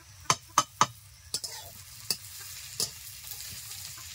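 Chopped ginger and garlic stir-fried with onions in a pan, several sharp spatula knocks and scrapes in quick succession over a faint, low sizzle, close by and without voices.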